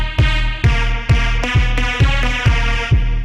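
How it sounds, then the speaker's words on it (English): Pitched-down synth stab samples from a bass house sample pack, seven punchy harmonic hits in a steady rhythm roughly every half second, each with a deep low thump and a short decaying tail, loud and alone. "I've been making so many of these stab sound effects"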